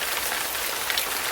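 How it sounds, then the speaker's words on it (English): Rain sound effect in a read-aloud children's story: a soft, steady hiss of rain falling on a surface, even and unbroken, with no voice over it. "it began to rain."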